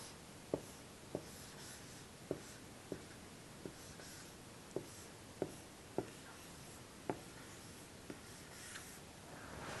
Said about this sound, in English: Here's how we write the number 13.